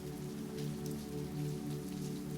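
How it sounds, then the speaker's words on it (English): Steady rain falls outside a ramen shop at night, a constant close hiss of drops with a low, even hum underneath and no voices. "Outside, the rain falls steadily, a soothing backdrop to your meal."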